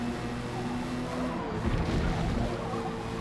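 A ballast-heavy Porsche 911 GT3 RS race car on race tires is driven in a racing video game, with a steady, fairly quiet engine drone and a brief tire scrub or skid partway through.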